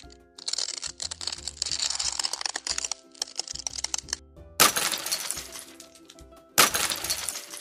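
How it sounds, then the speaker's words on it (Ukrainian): Ice crackles and snaps in quick irregular bursts, followed by two louder sharp breaking cracks close by. "Трісь, трісь, тріщить льодок"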